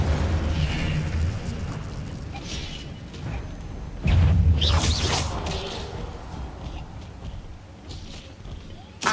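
Incendio fire spell in Hogwarts Legacy, a loud booming blast with a rushing whoosh that swells suddenly partway through and then slowly fades, set over a continuous rumbling game background.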